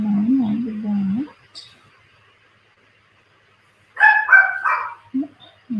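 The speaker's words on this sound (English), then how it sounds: "My dog's decided she's going to bark. You can hear that." A dog nearby gives a low, wavering whine, then after a pause lets out a few short barks in quick bursts.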